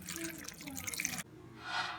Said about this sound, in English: I'm putting in here some water,